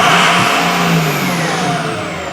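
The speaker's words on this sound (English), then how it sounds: "So let's stab the throttle here." A 6.0 engine revs sharply as the throttle is stabbed, a loud, close burst of rising roar that peaks and then gradually falls back toward idle.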